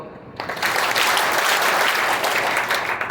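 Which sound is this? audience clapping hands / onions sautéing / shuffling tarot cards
audience clapping hands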